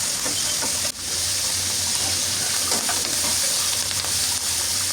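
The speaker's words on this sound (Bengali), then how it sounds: "এগুলো আমি একটু ভালোভাবে ভেজে নিচ্ছি, মানে আধা আধা সিদ্ধ করে নিচ্ছি" Onion stalks sizzle and fry loudly in a pan for a Bengali tomato and hilsa fish dish, a steady close hiss with occasional stirring scrapes and no talking.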